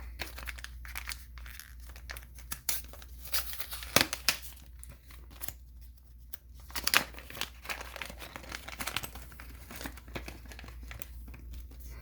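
Crinkling and tearing of DSM Off-Road product packaging as it is opened and unwrapped, with close, irregular bursts of rustling plastic and paper and a few sharper rips, no talking.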